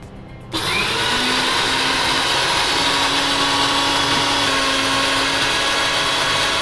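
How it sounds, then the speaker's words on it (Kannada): A mixer grinder whirs into action on dosa batter thinned with water. It starts abruptly and holds a loud, steady motor whine close by, with no talking. "ಸ್ವಲ್ಪ ನೀರು ಹಾಕಿ ಮಿಕ್ಸಿ ಮಾಡಿ"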